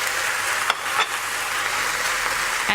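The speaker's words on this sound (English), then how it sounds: "I'm just going to fry that off for just a few minutes" Carrot, beans and zucchini sizzle steadily in a hot pan, a close, even frying hiss broken by a few soft stirring scrapes.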